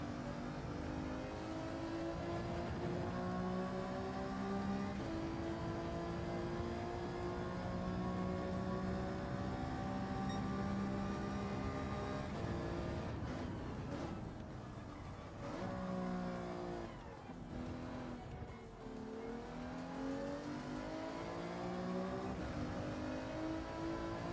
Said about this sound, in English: I don't know what engine this is